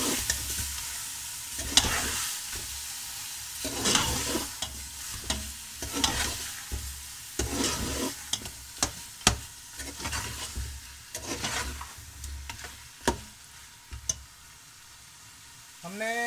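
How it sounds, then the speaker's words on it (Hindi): Goat meat sizzles and fries in a pan with spices for a homemade goat curry, with repeated scraping stirs of a spoon at an irregular rhythm over a steady close frying hiss. "और इसे भी मसाले के साथ आपने इसी तरह ही भूनना है।"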